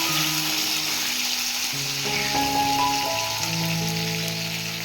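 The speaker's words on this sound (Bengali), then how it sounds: "কারি পাতা দিয়ে আলু অল্প একটু তেল দিয়েছি ওর মধ্যে সাদা তেল" Potatoes with curry leaves fry in a little white oil, a dense, even crackling sizzle heard up close throughout, with some faint tonal sounds in the background and no talking.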